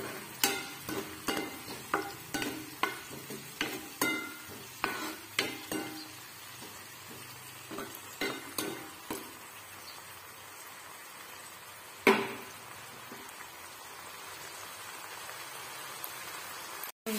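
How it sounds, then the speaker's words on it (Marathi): Boiled tomato puree sautés in a pan with a soft, steady sizzle while a spoon stirs it in regular scraping strokes, faint and close, with no talk. "तर आता आपण टोमॅटो बॉईल करून घेतलेला आणि त्यामध्ये टोमॅटोची प्युरी घालणार आहेत। छान असं परतू घ्यायचं।"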